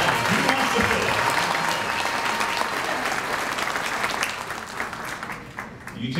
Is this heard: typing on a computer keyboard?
no